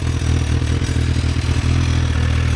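A 2007 Suzuki GSXR1000 with about 1,965 miles runs steadily close by, its engine note dense and continuous with a low throb and light mechanical rattle throughout.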